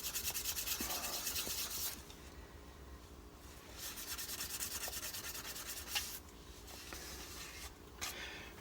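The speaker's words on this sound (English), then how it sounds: "lightly rub the inside. A circular motion." Sandpaper rubs in circles around the inside of a wooden yarn bowl, a close, dry scratching that sounds in repeated strokes with brief pauses between passes.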